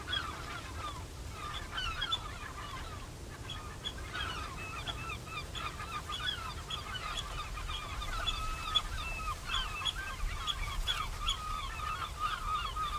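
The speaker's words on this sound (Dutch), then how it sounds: "Je bent nu in een kolonie lepelaars." A dense chorus of harsh, croaking spoonbill calls from a nesting colony on a breakwater in Den Oever harbour, steady and overlapping throughout, with some calls nearer and louder than others.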